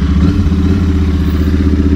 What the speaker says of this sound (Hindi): तो ये रही अपनी बुलेट, और इस पे चलते हैं।